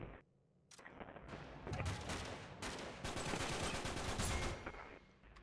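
Rapid bursts of gunfire in Uncharted 3 crackle and pop almost continuously after a short quiet start, dense and sharp like automatic weapons.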